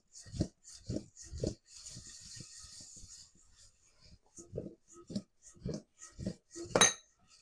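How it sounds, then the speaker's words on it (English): Potatoes tossed in a bowl with seasoning to coat them evenly, giving repeated rhythmic scraping and tumbling thumps, with brief clattering in between and a sharp metallic clink near the end. "Now I'm just going to give them a toss to coat them evenly."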